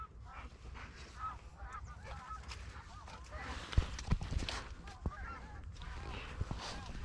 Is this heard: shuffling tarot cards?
no